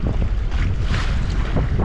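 A small powered boat pushes through rough water into a headwind, with loud wind buffeting, hull slapping and a continuous low engine rumble, all close to the microphone.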